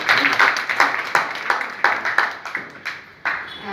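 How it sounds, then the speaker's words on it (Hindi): Audience clapping at a community Yoga Day event, a run of distinct, fairly close hand claps in an uneven rhythm, moderately loud, with no talk over it. "और बिटिया की उत्साहवर्धन के लिए एक बार और जोर से ताली बजाएं।"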